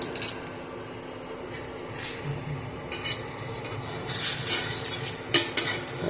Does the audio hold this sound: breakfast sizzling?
yes